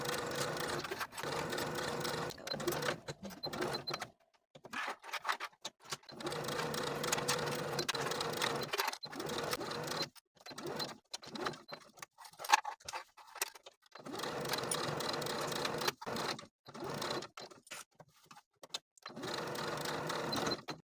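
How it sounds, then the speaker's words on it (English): Sewing machine stitching a half-inch seam around a garment facing, pivoting at corners: bursts of steady mechanical whirring broken by short pauses, close and clear with no talk. "Now we'll sew around the entire facing with a 1/2 inch seam allowance,"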